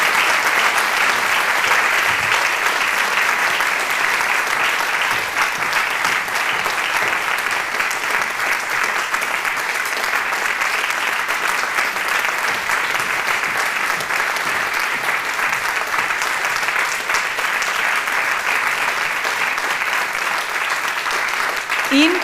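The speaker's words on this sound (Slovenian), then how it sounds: "Še z bolj bučnim aplavzom pa bomo najprej pospremili predstavnico krajevne" A large audience at the national opening of the TVU 2023 event in Ajdovščina applauds loudly and steadily, a dense uninterrupted wash of clapping that holds at full strength throughout with no voices above it.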